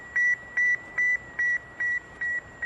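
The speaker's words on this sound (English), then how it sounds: "Sputnik 1 reminded the world what it was with its signature beep" Sputnik 1 satellite signature beep: a steady train of seven clean, evenly spaced electronic tones, each lasting about a fifth of a second, repeating about twice per second over a faint hiss, with no talk.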